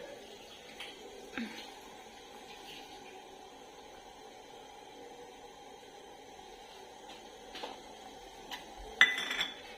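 Metal plate set into a steamer for Gujarati dhokla-style cooking gives faint clinks and clatters of metal on metal, scattered soft knocks with a sharper rattle near the end against a quiet room hiss.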